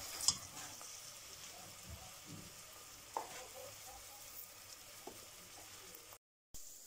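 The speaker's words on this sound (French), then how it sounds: "on va bien faire suer nos oignons tout doucement avec un peu de sel" Onions sweating gently with a little salt in a pan give a soft, steady low sizzle, with a few sharp stirring clicks scattered through and a brief silence near the end; nobody speaks.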